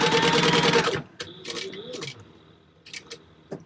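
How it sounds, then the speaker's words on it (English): Sewing machine top stitching down the sides of D-ring connectors, a loud rapid mechanical rattle that stops abruptly after about a second, followed by quieter clicks and short bursts of handling. "take it to the sewing machine and then kind of top stitch, base stitch down each side"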